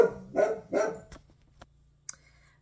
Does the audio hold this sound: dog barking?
yes